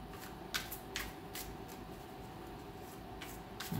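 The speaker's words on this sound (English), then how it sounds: "Why am I shuffling this deck?" Soft, quick riffling bursts of cards being shuffled, repeating every half second or so against a quiet room hum.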